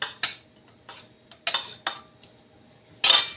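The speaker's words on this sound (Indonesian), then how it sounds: "Kemudian kita aduk." A utensil scrapes and clinks against a metal pot while stirring candil dough in boiling liquid, in several short, sharp bursts spaced irregularly, loud and close, with no voices.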